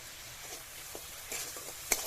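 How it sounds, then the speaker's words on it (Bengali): Spice paste with turmeric and salt for a Bengali prawn malai curry stir-fried in a pan, giving a quiet, steady sizzle with soft scraping stirs and a sharp utensil clink near the end. "এবার মশলাটা ভালো করে কষিয়ে নেব।"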